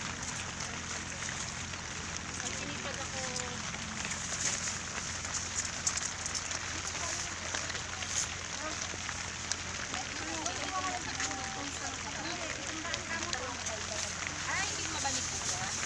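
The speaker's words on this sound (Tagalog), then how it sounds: "malakas-lakas na yung ambon." Steady drizzle turning to heavier rain patters on surfaces through a rainy Sunday morning, a dense continuous hiss with scattered drops, while people talk quietly nearby.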